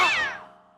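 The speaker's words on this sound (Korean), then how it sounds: "어디선가 나타난 고양이." A single cat meow, loud at the start and trailing off over nearly a second, with no other sounds.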